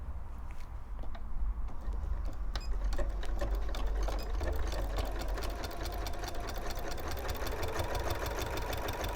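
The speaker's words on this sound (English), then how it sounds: "Then you're just going to pop it back in the machine and start stitching again down this side." A sewing machine stitches binding down the edge of a quilt, a steady close mechanical whir with rapid needle ticking that runs without pause throughout.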